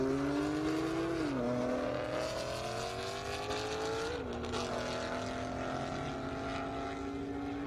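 Porsche race car accelerating hard down an airstrip drag race course, a loud roaring engine climbing through two gear shifts and holding a strong steady drone, with no talk.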